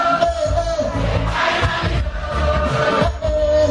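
A crowd sings along at a musician's performance, with loud massed voices and music rising and falling over a few seconds.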